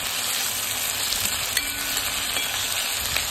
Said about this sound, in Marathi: आता आपण याच्यामध्ये टोमॅटो टाकून घेऊया।